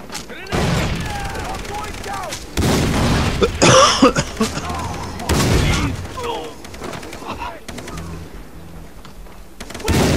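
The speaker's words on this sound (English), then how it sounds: "Grenade out!" Grenade blasts in the video game Far Cry 3 during co-op play: several heavy booming bursts spaced a few seconds apart, mixed with rattling gunfire.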